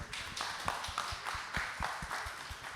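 An audience applauds, with quiet, fairly even claps repeating steadily throughout, distant and soft with no voices.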